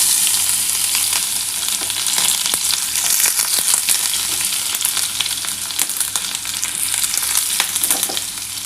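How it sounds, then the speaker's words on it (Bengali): Chopped onions fry in hot oil in a steady, loud, close sizzle that hisses on without a break, with faint stirring crackles throughout and no voices. "বন্ধুরা দেখো, তেলটা কিন্তু আমার গরম হয়ে গেছে। আমি প্রথমে কিন্তু পেঁয়াজটা দিয়ে দিচ্ছি।"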